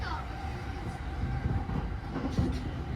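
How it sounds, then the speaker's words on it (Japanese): Steady rumble and rattle inside a moving Tokaido Line train in Japan, bound for Atami, with low clicking and faint mechanical whine throughout, no talking. "東海道線で熱海に向かいます"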